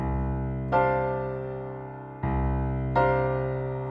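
Three sustained piano chords in a minor key ring out one after another, each struck clearly and left to decay, played solo with no talking.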